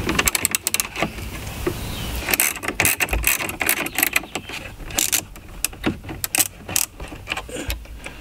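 Screws being removed from the center console area of a C7 Corvette: close clicking, ratcheting and rattling mechanical noises in irregular bursts, with small metallic taps and handling sounds and no talk.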